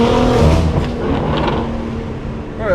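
A BMW G8x M3/M4 fitted with a Valvetronic Designs HFD mid-pipe exhaust, heard as a loud, close engine rumble with a rising rev and a brief rasp near the end.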